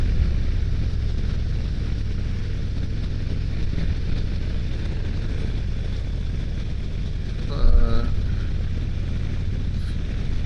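Wind buffets a rider on a 2023 Harley-Davidson Road King Special 114 motorcycle with no visor, as a loud, constant low roar with engine rumble underneath throughout the ride.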